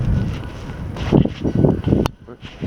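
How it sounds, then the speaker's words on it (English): Strong wind gusting outdoors in a December snowstorm, loud, buffeting rumble hitting the microphone in surges with a brief lull near the end. "It is so cold and windy out here."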